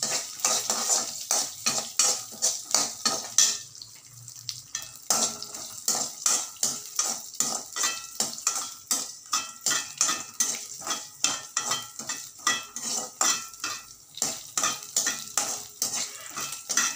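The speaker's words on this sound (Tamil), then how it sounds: "தாளிச்சிட்டு நல்லா வெடிக்குது." Rapid, dense crackling and popping of cumin, garlic, chana dal and curry leaves tempering in hot ghee, continuous and close, with a brief lull before the sputtering resumes.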